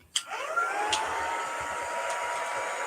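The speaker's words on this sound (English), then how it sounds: "I'm going to grab my dryer" A hair dryer blows hot air to dry chalk paste on a stencil screen, clicking on and then roaring steadily and close with a broad, even whoosh throughout.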